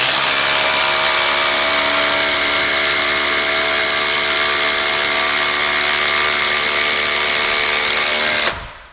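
A DeWalt 20V Max impact driver with an XR Power Pack battery drives three screws, one held offhand: a loud, continuous high-pitched whine with a steady rapid hammering rattle, close up and alone, cutting off sharply at the end.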